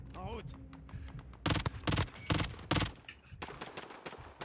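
Rapid bursts of FAMAS rifle fire in the Call of Duty: Modern Warfare campaign in Verdansk, several loud broadband volleys over a couple of seconds with a voice talking before and between them.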